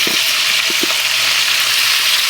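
Onion and bacon frying in a pan, a loud steady hiss of sizzling fat throughout, with a few soft stirring taps near the start.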